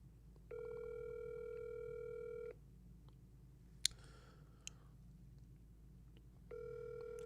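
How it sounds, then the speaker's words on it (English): Outgoing call ringing on Discord, a steady electronic ring tone sounding twice with a long silent gap between, a few faint clicks and rustles in the pause, no talk. "I'm about to call his phone."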